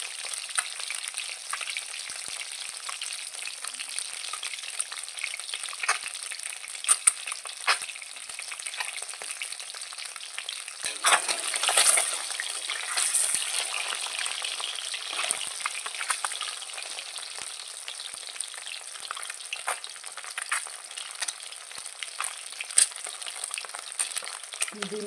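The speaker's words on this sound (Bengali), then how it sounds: "ডিমটা ভালো করে ভেজে আর একটু তেল দিয়ে নিলাম।" Egg frying in hot oil in a pan, a steady close sizzle and crackle that swells briefly midway, with no voices.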